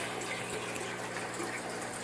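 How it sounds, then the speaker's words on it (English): An aquarium air pump runs, pushing a dense, steady wash of bubbling water that stays loud and close without a break. "now you turn the pump on, click click, and there it is, folks"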